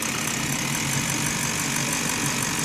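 A Ford 6.0 Powerstroke diesel engine idles steadily nearby, a continuous rough, ticking rumble with no talk over it.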